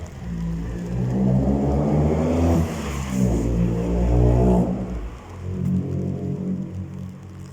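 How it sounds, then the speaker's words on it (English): Cars with loud exhausts rev and pass along a rainy town street, their engines swelling into roaring, rising notes, fading, then returning over the wet hiss of tyres and rain. "They love those noisy exhausts"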